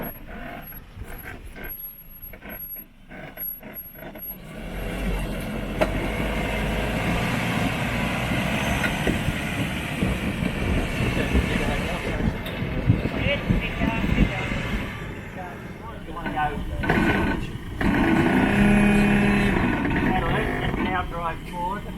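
A 4WD vehicle climbs a steep off-road hill, its engine droning and rising under load over crunching terrain, close by, with occasional voices over it.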